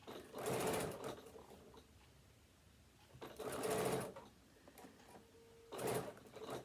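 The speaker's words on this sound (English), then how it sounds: "we're just going to stitch like this till we get to the first corner" A sewing machine with a walking foot stitches binding on a tablet holder in three short, soft bursts of running, with faint handling noise in the gaps between.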